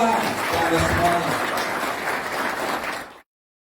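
Seminar audience clapping in a room, a sustained burst of applause with a voice speaking over it, cutting off abruptly after about three seconds.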